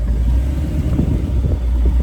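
An off-road rig on TSL SX sticky tires aired down to 8 PSI crawls in first gear and double low, giving a steady low engine rumble that stays close and even throughout, with no talk over it.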